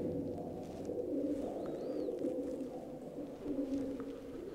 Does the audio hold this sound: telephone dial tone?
no